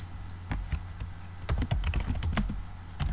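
Keys clatter in uneven bursts on a computer keyboard while a query is entered into a chat window, starting sparse and then turning into a denser run of close, crisp taps with no talk.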